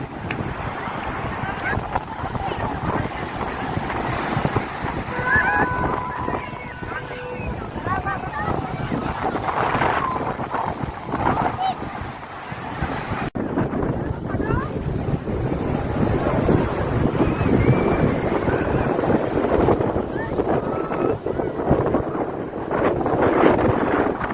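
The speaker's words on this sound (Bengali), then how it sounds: "এইখানে যে ঢেউটা ঢেউটা বেশ বড় বড় ঢেউ হচ্ছে" Big sea waves roll in at Marina Beach in Chennai, a continuous roar of surf mixed with heavy wind buffeting the microphone, while people talk faintly in the background.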